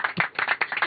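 A brief patter of clapping aboard the International Space Station, a few quick hand claps close by, lasting under a second.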